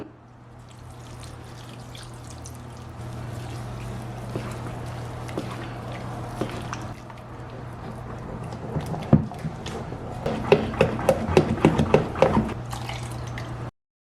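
Coconut milk, 180 ml, is poured a little at a time into appam batter, giving a soft steady trickle over a low hum that turns into louder splashy drips and stirring plops toward the end.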